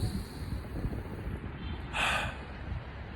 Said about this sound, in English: it's be like a long belly inhale